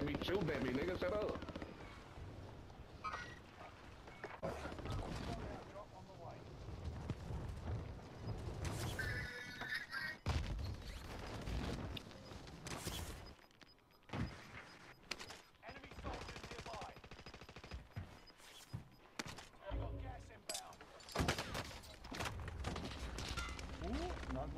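Video game gunfire rattles in rapid automatic bursts and scattered shots, loud and dense throughout, mixed with a player's excited talk.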